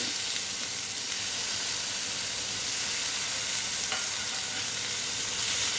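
Tomatoes hit a hot pan with ginger paste for matar paneer and set off a steady, loud, continuous sizzle and frying hiss, with faint stirring scrapes throughout and no talking.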